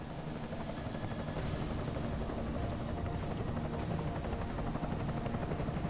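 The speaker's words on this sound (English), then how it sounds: "Enemy helo sighted." An enemy helicopter in the game Deus Ex: Mankind Divided, a steady, dense rotor drone with a continuous low thrum and airy whine, holding even and unbroken throughout.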